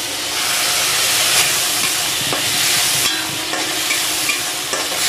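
Onion and spice mix fries in a pan, a steady loud sizzle and hiss with occasional scrapes and clatters as it is stirred, close up with no voices.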